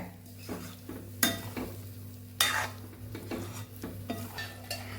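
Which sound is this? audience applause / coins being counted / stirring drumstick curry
stirring drumstick curry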